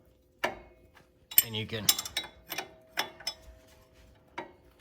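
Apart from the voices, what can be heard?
wrench tightening a nut, vice grips holding the stud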